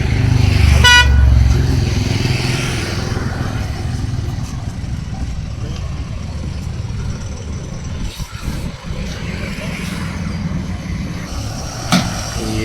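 A second new school bus for a senior secondary school starts up with a sharp horn toot at the start, then a steady idling and revving engine rumble with crowd chatter nearby and a brief second toot later.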